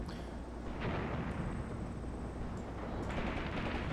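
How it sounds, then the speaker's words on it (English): Artillery strike in the WWII tactics game Graviteam Tactics: Mius Front, with dense, continuous rumbling blasts and crackling impacts filling the whole stretch at steady loudness, no voices over it. "Artillery strike."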